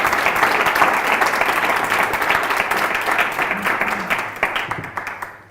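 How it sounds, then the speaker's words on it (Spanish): Audience applause at a special-event talk fills the space, a dense wash of many hands clapping steadily that thins and fades toward the end. "Un fuerte aplauso y muchas gracias."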